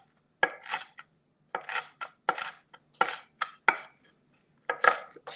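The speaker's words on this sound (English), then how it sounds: "So chopping our bacon bits here." Knife chopping cooked bacon into bits on a cutting board: crisp, bright knocks in quick clusters with short pauses between bursts, close and alone without speech.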